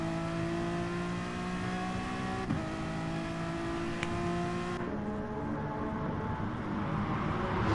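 Race car engine in an endurance racing series, a steady high whine with a clear harmonic drone that holds near and loud, shifting pitch as it pulls through gears.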